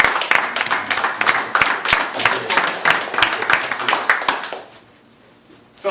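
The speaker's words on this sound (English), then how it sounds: "Thanks for clapping." Audience clapping at a Toastmasters club meeting, many distinct sharp hand claps in a lively burst that carries for several seconds, then thins and stops, leaving near silence.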